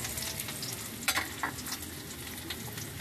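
Garlic sizzles in a hot pan with tomatoes, a dense continuous frying hiss close up with a few brief spatters and pops.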